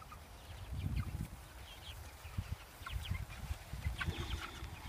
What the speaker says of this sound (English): Four-week-old meat chickens.